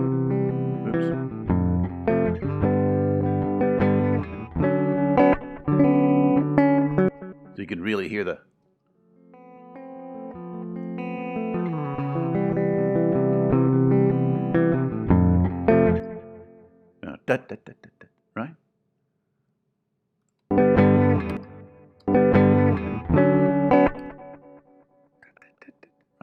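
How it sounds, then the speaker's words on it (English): Guitar phrases played through an echo effect, the repeats bouncing between two walls of a room, come in loud bursts broken by pauses, and someone briefly speaks in one gap. "this is basically like two echoes bouncing, one echo bouncing off that wall over there and another echo bouncing off that wall over there"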